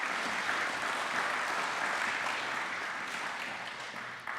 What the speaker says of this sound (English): A round of applause, please, for the county clerk.